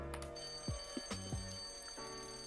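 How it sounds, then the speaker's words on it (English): A quiet electronic bell-ringing ship siren from the Sea Cloud in Dynamic Ship Simulator 3, with a few brief clangs and chimes, faint and somewhat irregular, with no voices. "just kind of like the basic bell ringing siren"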